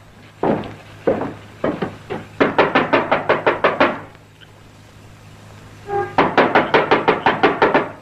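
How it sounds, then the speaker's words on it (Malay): Someone raps repeatedly on a wooden house door in loud, close bursts of quick knocks, pausing between volleys and then hammering again harder, with no talk. "Ketuk kuat sikit"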